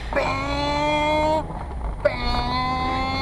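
A voice imitates a Mazda Miata accelerating with a rising engine-like drone, breaks off for a moment, then repeats the revving hum close to the microphone.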